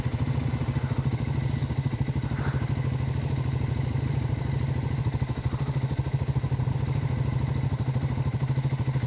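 A motorcycle engine, just started and warming up, idles steadily with a close, even, rapid chugging pulse and light mechanical clatter throughout.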